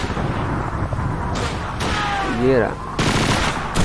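Gunfire in the video game Call of Duty 2: a few loud bursts of shooting break in twice, with a voice speaking briefly between the volleys.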